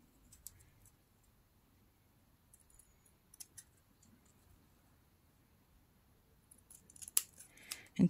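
Scissors snipping leftover paper from a cut made with an Elizabeth Craft die. A quiet, close run of small crisp cuts, sparse at first, then quicker and louder snips near the end.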